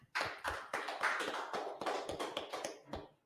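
Audience clapping at a biblical law class fills the room, a dense round of hand claps with sharp repeated strikes that starts abruptly, holds steady, then tapers off near the end.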